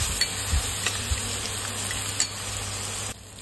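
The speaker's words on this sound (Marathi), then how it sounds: "त्याच्यामध्ये आपले हे वाटण केलेलं ते टाकून घेऊया आपण। मस्त त्याला पण आपण भाजून घेऊया।" Ground masala paste fries with browned onions in a pan, a steady close sizzle with a few soft stirring knocks and scrapes throughout and no voices.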